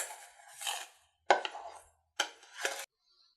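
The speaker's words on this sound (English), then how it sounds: "Now just mix it up until it's about the consistency of brown sugar." A smoked salt mixture is stirred to the consistency of brown sugar, giving three separate gritty scraping bursts close by, with quiet pauses between them.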